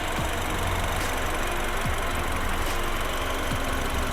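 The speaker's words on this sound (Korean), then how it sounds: "엔진 소리 일정하네요" A BMW 320i M Sport engine idles evenly with its engine bay open, a constant close mechanical hum with a faint regular ticking and no one speaking.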